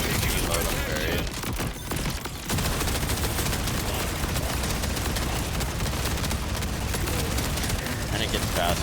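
Bod Melter gun firing continuously in SMG mode in Borderlands 4, a dense, loud, unbroken stream of rapid gunfire with one brief pause near the start, then sustained fire to the end.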